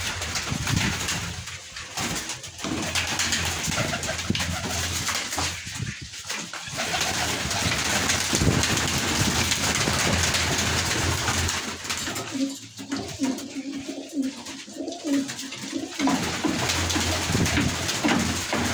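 Pigeons kept for sale coo in soft, repeated low calls, close by and fairly loud over a steady background hum, with short pauses between bouts.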